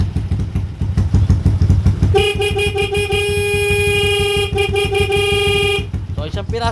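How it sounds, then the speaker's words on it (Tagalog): A Suzuki Skydrive 125 motorcycle horn blares in one sustained electric honk of about four seconds over a running engine, loud and close, with someone speaking before and after. "Tapos, busina, testing natin yung busina."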